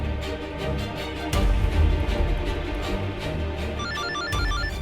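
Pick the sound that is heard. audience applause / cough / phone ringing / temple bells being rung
phone ringing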